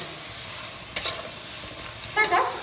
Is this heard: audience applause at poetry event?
no